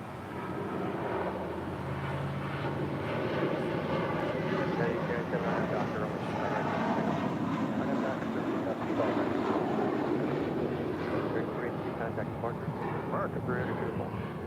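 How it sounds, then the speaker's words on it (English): American Airlines A321 departing LAX, a continuous rumbling jet roar that swells gradually and holds steady, with faint voices murmuring beneath it. "This is American Airlines 382 departing to Boston on the A321."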